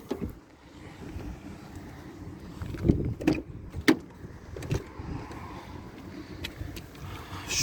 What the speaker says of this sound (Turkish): O yüzden kapıları açayım da tavanı göstereceğim.